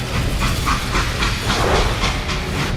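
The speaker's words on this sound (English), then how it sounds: "How'd they stop this train in the first place?" A moving train in the video game Call of Juarez Gunslinger gives off a loud, steady rumble with hiss and a rhythmic clickety-clack of wheels. No voices can be heard.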